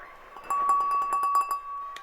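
Drinking glasses clink lightly and ring in a 1920s speakeasy setting, a few soft bright taps over a steady faint hum, with one last small chime near the end.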